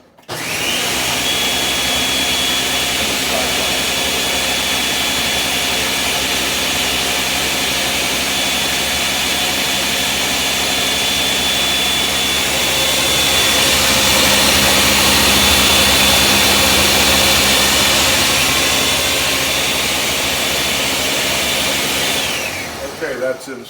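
A food processor runs on tomatoes with extra virgin olive oil, giving a loud, steady motor whir that starts abruptly, holds for over twenty seconds with a slight swell, then cuts off.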